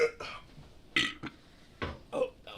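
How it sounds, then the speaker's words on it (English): A man lets out a burp right after chugging a beer, with several short, throaty bursts over a few seconds, close and fairly quiet, with no talk over them. "Couldn't trust that burp."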